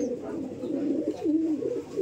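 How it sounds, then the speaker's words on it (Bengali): Giribaj pigeons on a farm coo steadily in low, rolling calls, several birds overlapping close by with no talk. "ভাইয়ের খামারে সবচেয়ে বেশি গিরিবাজ কবুতর।"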